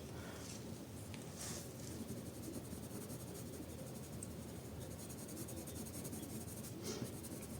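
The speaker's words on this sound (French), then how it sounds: "Et je colorie en tout petit rond" A Polychromos coloured pencil colours on paper in tiny circular strokes, producing a steady, close, soft scratching that runs without pause and without talk.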